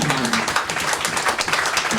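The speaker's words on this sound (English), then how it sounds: "One more round of applause, Josh" A comedy show audience gives comedian Josh Martin a steady round of clapping and applause, dense and continuous throughout.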